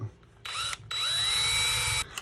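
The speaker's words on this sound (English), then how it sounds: "I'm gonna drill these out. 1/8" drill bit." A power drill with a 1/8 inch bit whines while drilling out small parts, a short spin-up and pause followed by a longer, steady high-pitched run that stops abruptly, close and loud.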